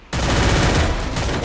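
A grenade explodes in a video game, a loud sudden blast that starts abruptly and rolls on as a dense, sustained roar.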